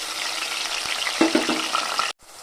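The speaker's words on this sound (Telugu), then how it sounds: "ఇప్పుడైతే నూనె కాగిపోయింది కదా ఇప్పుడైతే ఈ పేస్ట్ని నూనెలో వేసాను" Onion and green chilli paste hits hot oil, giving a steady broadband frying sizzle with a few brief louder spits, close and alone, cutting off abruptly near the end.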